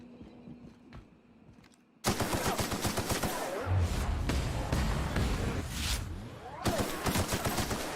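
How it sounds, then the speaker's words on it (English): Heavy automatic gunfire breaks out in The Outer Worlds after a quiet stretch and keeps going as a dense, loud barrage of rapid shots for about six seconds, with several weapons overlapping. "We have a lot of shooting to do, Captain."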